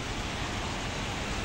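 Steady rain falling over rooftops in Kuwait, a dense, even hiss of water that runs unbroken and moderately loud from start to finish, with no voices over it.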